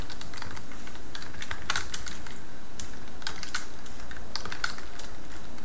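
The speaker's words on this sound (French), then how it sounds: "je vais taper donc dans Joker" Fingers type on a computer keyboard, a fast irregular run of close, crisp key clicks with small pauses, steady over a faint room hum, no one speaking.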